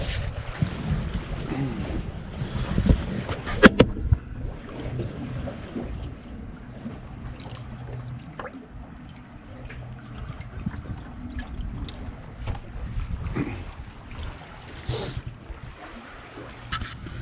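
A 24-foot pontoon boat runs on open water, its low motor drone mixed with gusty wind buffeting and splashing water, and a few sharp knocks early on.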